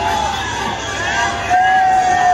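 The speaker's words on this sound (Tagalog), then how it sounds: "Grabe, sigawan talaga yung mga tao." A crowd packed along the street during a Manila mayor's motorcade shrieks and cheers, a dense, continuous wash of shrill voices and babble that swells louder in the second half.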